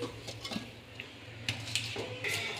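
Fried potatoes scooped out of a wok in a home kitchen, with soft scraping clinks of a metal spatula against the pan in a few quick, quiet strokes over a low steady hum.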